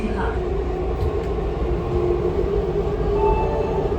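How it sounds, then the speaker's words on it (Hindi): A Namo Bharat train pulling out of New Ashok Nagar station, heard from inside as a steady loud rumble and hum of rolling carriages that continues evenly throughout, with no voices over it. "ये भाई हमारी न्यू अशोकनगर रेलवे स्टेशन से हमारी ट्रेन निकल रही है।"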